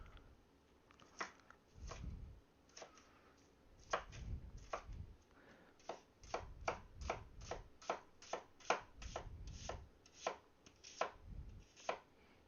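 A knife mincing food on a cutting board, heard as a close, crisp series of rapid taps, first scattered, then settling into a quick steady rhythm, with faint shuffling between strokes and no talking.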